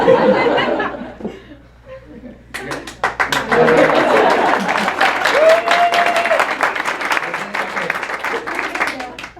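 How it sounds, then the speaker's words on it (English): Steady applause from an audience at a bookstore author talk swells and continues, with some laughter and chatter mixed in beneath the clapping. "I need as much clapping as possible."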